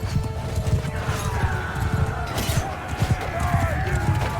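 Horses in Mount and Blade II Bannerlord battle, with rapid clip-clop hoofbeats, scattered neighs and clashing combat noise running continuously in a busy mix.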